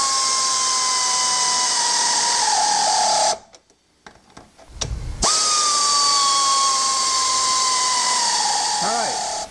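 Power tool running steadily while tightening bolts on a Honda Accord race car, a sustained high whine that cuts out for about two seconds and then resumes, with faint pitch dips near the end.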